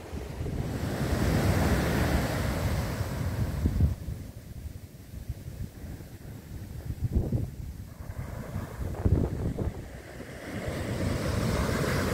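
Wind buffeting the microphone over sea waves surging against the Poppenguin cliffs, a loud roaring wash that eases midway and then swells again, with brief gusty bursts.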